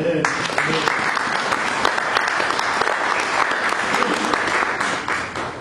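A church congregation applauding during a sermon, dense sustained clapping from many hands filling the room at close range, with voices mixed in underneath, fading slightly at the end.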